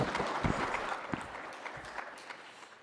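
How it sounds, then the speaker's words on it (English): Audience applause at the official launch of the 2023 Population and Housing Census: a steady, moderately distant wash of many hands clapping, fairly quiet and continuous, with no talk over it. "another round of applause, please"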